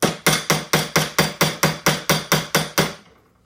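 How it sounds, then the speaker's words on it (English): Twelve sharp, evenly spaced hammer blows strike a rod to drive a muzzleloader barrel down into its seat in a kit gun clamped in a vise, each crack ringing briefly before the last fades out. "Kind of hammer it down just a little bit using the rod"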